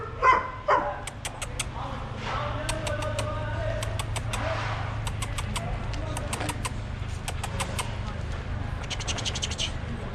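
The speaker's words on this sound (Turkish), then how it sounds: "Bu da yeni köpeğimiz." A new dog barks and yips in short, sharp bursts over a steady low background hum, fairly close, while a person talks intermittently alongside.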